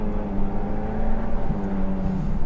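A Ferrari's naturally aspirated V12 with a 9,000 RPM redline rumbles steadily, a loud continuous engine drone with shifting tonal bands that rise slightly late on, heard alone without talk.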